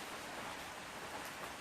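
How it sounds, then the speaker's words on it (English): Rain falls on a roof at a wet campsite with a camp kitchen, making a faint, even hiss of steady patter with no other sounds. "It's raining a fair bit, you can probably hear it on the roof."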